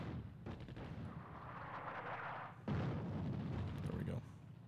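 Artillery fire in the WWII game Attack At Dawn: North Africa booms in muffled, rumbling bursts, with a faint voice under the fire.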